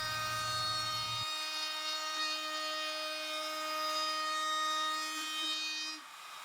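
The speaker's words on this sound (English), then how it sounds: "Then I'll put a round over on the edges," Router cutting a round-over along the edges of a wooden cajon box drum: a steady high whine with a constant motor hum, running without pause for several seconds before winding down at the end.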